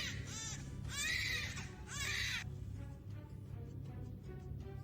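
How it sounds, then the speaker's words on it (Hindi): A baby cries in a home scene from a Hindi family drama, three loud wailing bursts close to the listener, followed by quieter whimpering sounds. "बच्चा रोने लगा।"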